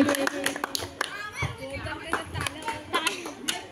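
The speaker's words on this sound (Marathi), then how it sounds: "सगळ्यांनी टाळ्या वाजवा श्रेयससाठी. जोरदार टाळ्या पाहिजे." Spectators clap for a player named Shreyas during a game, scattered irregular claps mixed with an announcer's voice talking over them.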